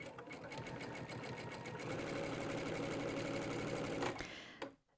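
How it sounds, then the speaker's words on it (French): A domestic sewing machine running an automatic zigzag test stitch in yellow thread for a Dresden Plate quilt, with a fast even whirring rattle for about four seconds before it stops with a small click. "Donc, quand je choisis le point de zigzag, ma machine me fait automatiquement ça."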